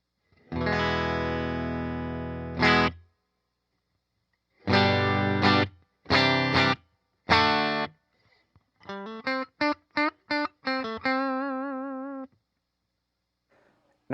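Grote GTLM-4 budget Telecaster-style electric guitar on its bridge pickup, played dry with no effects: sustained strummed chords, then short choppy stabs and single picked notes ending in a held, vibrato-shaken note, loud and close.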